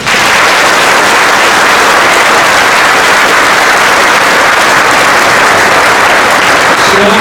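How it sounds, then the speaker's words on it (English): Loud, dense applause from an audience honoring a Vietnam veteran, steady and unbroken throughout with no pauses. "Give him a nice round of applause"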